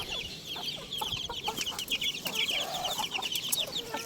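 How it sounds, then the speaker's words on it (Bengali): A flock of hens clucks and chatters restlessly before feeding, overlapping calls in a steady busy stream, fairly close with some farmyard background noise. "এই যে আমার মুরগি সব খাওয়ার জন্য ছটফট করছে।"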